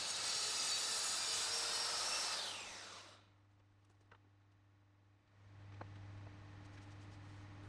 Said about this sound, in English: the plunge of the saw only starts midway into the edge of the panel